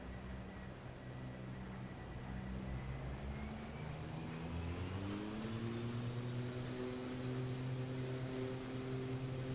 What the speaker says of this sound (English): Advance throttle to maximum, check engine instruments and then release brakes.